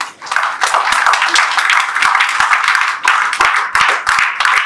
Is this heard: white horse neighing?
no